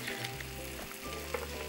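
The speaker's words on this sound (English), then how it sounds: "I can hear a lot of sizzling." An Uncrustable sizzles inside a hot waffle iron, giving a steady, close crackling hiss that runs without a break for under two seconds, with a couple of small pops.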